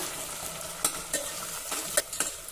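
Vegetables and other ingredients sautéed in a pan for a Maharashtrian kadhi-khichdi meal, a soft steady sizzle broken by several sharp scraping stirs of a spoon against the pan, close and moderately quiet, no talking.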